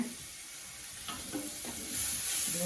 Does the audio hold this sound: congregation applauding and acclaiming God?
no